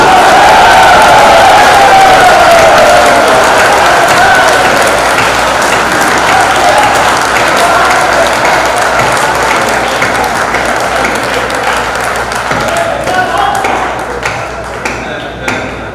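Sustained, loud audience applause at a Hindi kavi sammelan poetry recital in Mahoba, continuous clapping that slowly thins toward the end.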